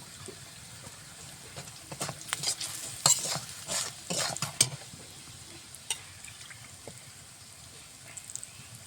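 Ground cumin, turmeric and salt frying in oil for a Bengali fish curry with eggplant, bori and puti fish, a soft steady sizzle with stirring clatters and scrapes clustered in the middle, fading to a quieter hiss.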